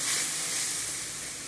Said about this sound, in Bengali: এই মশলাটা দিয়ে দেবো। এবার মশলাটা ভালো করে কষাবো।